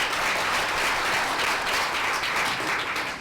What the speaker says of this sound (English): I want you to give yourselves a round of applause for being here.